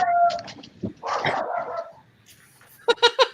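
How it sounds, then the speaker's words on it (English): A dog barking upstairs in a house, scattered muffled yelps and a short sharp burst of barks at the end, heard indoors at a moderate distance. "There's a dog upstairs barking."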